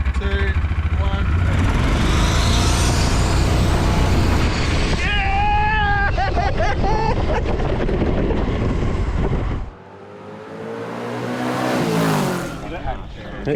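Cars accelerate hard from a rolling start, loud engines roaring with rising revs and buffeting wind noise, the din dropping suddenly before building again, voices heard amid the noise.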